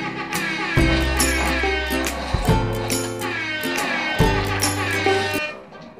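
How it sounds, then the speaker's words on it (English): Loud, blaring air horn sound effect blasts repeat three times in sustained low tones, layered over busy music-like clutter during Fortnite gameplay. "anyway, air horn."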